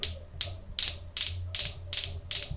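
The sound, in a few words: Newton's cradle pendulum toy steel balls clicking as percussion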